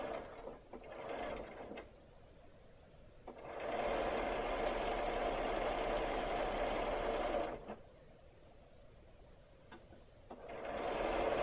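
A sewing machine stitching a quarter-inch quilting seam runs in one steady, close whirring burst of about four seconds, with quieter fabric handling before and after.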